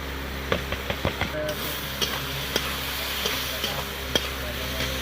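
Gobindobhog rice sizzles in a hot pan with chilli powder and turmeric, a steady close frying hiss punctuated by repeated sharp taps and scrapes of a spatula stirring.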